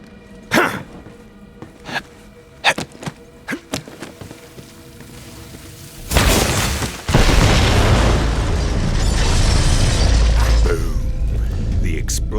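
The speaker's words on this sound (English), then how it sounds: "The explosion echoed through the forest" A bomb explosion in the video game Borderlands 3 erupts as a loud sustained boom with rumbling debris, following several sharp thuds and clanks from gameplay in a forest setting.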